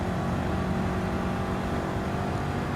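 A Mustang race car engine roaring at steady high revs in the Gran Turismo 7 video game, slipstreaming in a race, a continuous loud drone with no talk.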